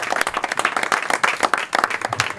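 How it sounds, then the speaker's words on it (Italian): A crowd at a football team's 20-year reunion celebration applauds with brisk, dense clapping that carries steadily for a couple of seconds. "Un applauso a noi e a tutti per essere intervenuti"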